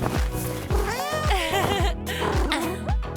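A tiny rescued kitten gives a run of high, wavering meows close up, each cry quick after the last, over soft rhythmic thumps and a backing musical track.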